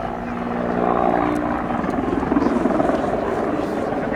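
A Mi-24 Hind attack helicopter's rotor and engine thrum steadily nearby at an air show, a loud sustained drone with rhythmic chopping that persists throughout.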